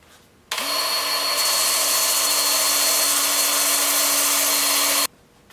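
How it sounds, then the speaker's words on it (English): A power sander works a maple burl winged bowl at a workbench, one loud steady whine that switches on abruptly, holds for several seconds close by, then cuts off. "Then I'll just take it over here to the workbench,"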